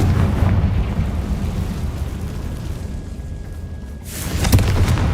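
Spell blasts from Bombarda and Confringo in Hogwarts Legacy boom through a dense, rumbling wash of noise that dips briefly, then a fresh burst swells near the end.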